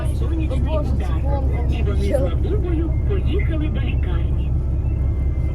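A bus carrying a school class on a trip pulls away, its steady low engine rumble running underneath throughout while several people talk over it.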